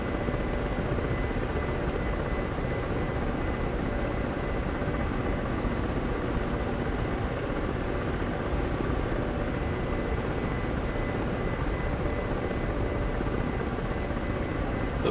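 A Ka-50 Black Shark coaxial helicopter in the DCS World flight simulator drones on in steady flight, its dense continuous rotor and turbine roar unbroken and even, with no speech over it.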